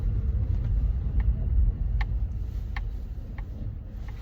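A car drives along with a steady low road rumble close by, broken by a few faint, sharp ticks scattered through the drive.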